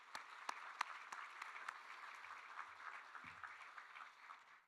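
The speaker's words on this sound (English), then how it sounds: "let's have a round of applause for our sponsors" A conference audience at an opening session applauds its sponsors, with many hands clapping in a fairly quiet, distant-sounding wash led by a few sharper claps, fading gradually.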